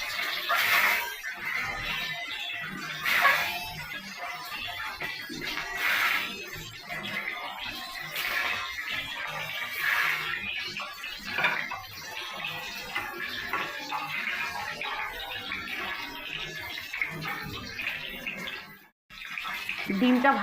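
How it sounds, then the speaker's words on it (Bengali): Eggs fry one by one in plenty of hot oil in a wok, giving a loud, continuous hissing sizzle with scattered crackles and a brief drop in sound near the end. "ডিমটা ভাজছি"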